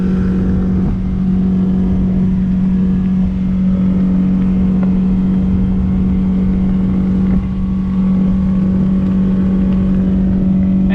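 A 2014 Bennington S24 tritoon boat's outboard engine runs at full throttle on the water, a loud, constant droning hum near top RPM, with wind and water rush over it and no talk.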